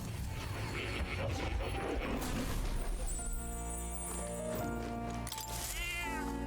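A cat meows in a video game, sounding over a dense bed of game music and mechanical ratcheting noise, with a rising meow near the end.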